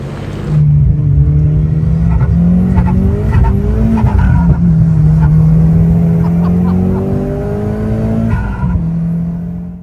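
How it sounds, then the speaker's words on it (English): A Porsche GT3 sports car pulls away hard, its engine revving loud and close through rising gear pulls with a brief tyre squeal, the note climbing and dropping between shifts. "Pressured Lee into taking his GT3 out"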